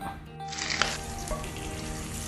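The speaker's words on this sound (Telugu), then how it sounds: "కాస్త ఇంగువ చల్లుకొని ఒక రెమ్మ కరివేపాకు వేసుకొని 1/2 నిమిషం పాటు వేపుకొని" Asafoetida and a sprig of curry leaves hit hot oil for a buttermilk-curry tempering, bursting into a loud, close sizzle with sharp crackles that settles into steady continuous frying, no voices.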